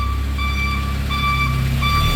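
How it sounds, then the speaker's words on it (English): Steady repeating backup alarm beeps, evenly spaced, over a loud low engine rumble from a 2014 Moffett M55 truck-mounted piggyback forklift. "Backup alarm's working."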